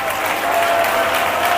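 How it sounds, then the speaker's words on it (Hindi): A church congregation at a Hindi sermon breaks into loud, dense applause, many hands clapping together in a steady, close wash of sound. "ताली बजा के"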